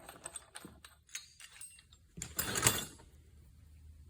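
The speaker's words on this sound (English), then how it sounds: "You can hear the wear in that bearing." Mechanical rattling and grinding from a worn bearing on a Yanmar tractor's PTO shaft, irregular clicks building into a louder, rougher burst midway, then fading back down.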